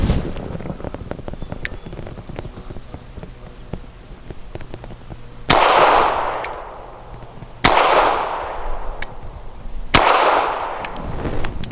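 Bersa Thunder 380 pistol firing 80 grain Legend Pro rounds outdoors, three loud, sharp shots a couple of seconds apart, each followed by a ringing echo tail, after a stretch of quieter handling noise and faint clicks.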